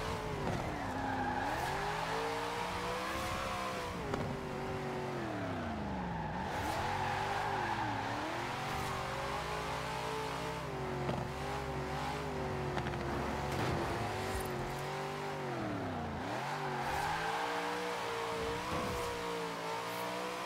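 In Forza Horizon 4, played on a Logitech G920 steering wheel, a car drifts for a sustained stretch. The engine revs in rising and falling sweeps while tires squeal continuously and loudly, with no voices.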